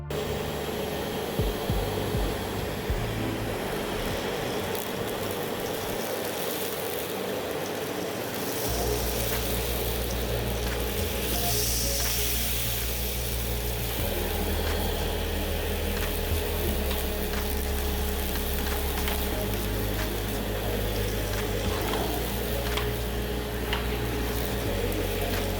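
A Fiable 3000 W cyclonic vacuum cleaner with a floor attachment sucks up spilled grains, flour and seeds. Its steady, loud airy whine runs throughout, and a low hum shifts as the head sweeps back and forth.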